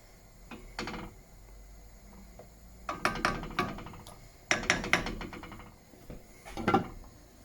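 Metal pot lid clattering and scraping as it is set onto a cooking pot of venison ragu, a series of light clinks and rattles in quiet clusters, close and fairly soft.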